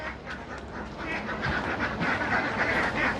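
A large flock of ducks, around 500 birds on a family duck farm in Laos, quacks continuously nearby in an overlapping clamor.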